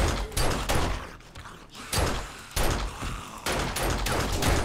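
Rapid bursts of gunfire in the zombie survival video game 7 Days to Die, loud and close, with repeated sharp reports and short gaps between volleys over roughly five seconds.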